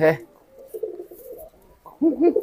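A newly paired homing pigeon coos softly nearby in low, throaty bursts, with a brief louder coo at the end.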